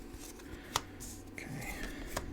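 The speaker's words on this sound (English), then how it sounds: "Cut the deck, place the cards." A tarot card deck is cut and cards are placed down, making soft quiet shuffling and snapping taps with a sharp flick of cards.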